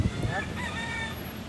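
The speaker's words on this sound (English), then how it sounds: "That's an actual rooster just walking around." A rooster crows in the open outside the federal courthouse in Miami on a hot June day, its call rising in wavering strained tones over steady crowd and street noise, moderately near.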